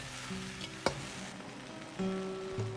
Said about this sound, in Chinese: 接着放入木耳，稍微翻炒几下。